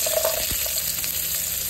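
Onion frying in hot oil with green chillies for a millet idiyappam tempering, a steady close sizzle with light crackles and a brief stir near the start, no talking.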